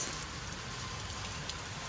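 Heavy rain pours down in a steady, dense hiss with scattered heavier drops, loud and unbroken.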